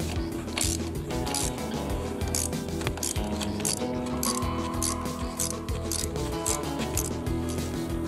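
A short wrench cracks loose the front fork caps on a Honda NC700X/NC750X motorcycle, producing steady metallic ratcheting and clicking close by, continuous and loud throughout.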